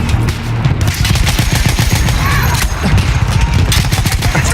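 Battlefield 1 gunfire in a World War I battle: dense, overlapping rifle and machine-gun bursts crackle nonstop, with heavy low rumble beneath, loud and close throughout.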